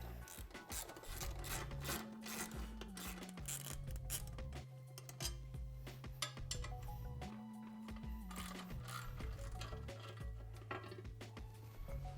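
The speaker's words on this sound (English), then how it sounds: "I'm going to remove the 2 lower mounting bolts first and then the top." Metallic scraping and rubbing of tools loosening the mounting bolts on the front cover of a Yamaha Blaster 200 ATV, steady and close, with faint clinks and a low background hum throughout.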